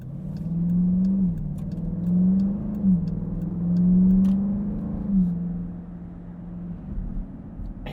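A 2020 Dodge Durango SRT's exhaust rumbles steadily from the cabin while driving, swelling in a few throttle surges before settling into a lower cruise drone, with no talking.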